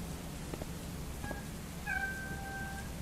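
A pet cat meows twice nearby, a drawn-out wail against a low steady background hum with faint soft knocks just before.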